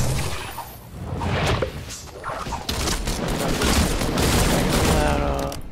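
Rapid bursts of gunfire crackle from a shooter video game firefight, dense repeated shots filling the whole stretch, loud and close, with a building and a crawling enemy nearby.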